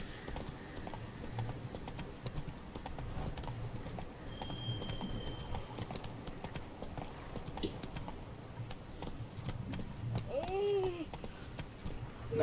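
Roach, a horse in The Witcher video game, clip-clops steadily along at a walking pace through most of the stretch, with ambient game sounds around and a brief whinny-like tone near the end.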